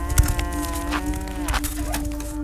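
Cattle low on a farm where cows graze grass and are fed crops like fodder beet, swedes and lucerne; a sustained bellowing moo carries through the whole stretch, steady and fairly close, with no talking.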